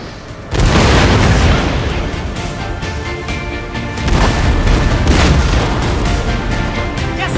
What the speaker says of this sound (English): they were bombarded in pieces by the cannon fire